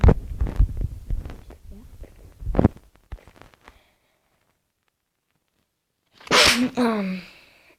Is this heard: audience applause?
no